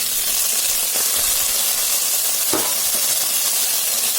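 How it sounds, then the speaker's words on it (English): A steady, hissing sizzle of tomatoes frying in a pan fills the clip, close and continuous, with occasional soft scrapes of stirring. "nice sizzle."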